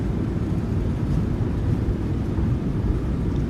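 Thrust reversers of a PMDG 737-800 on landing in MSFS2020, a steady deep low roar of engine noise, continuous and loud, with no voices.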